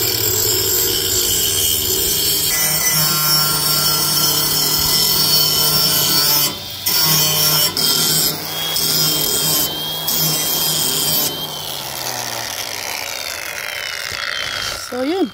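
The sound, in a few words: hand-filing a dull tractor grass-cutting blade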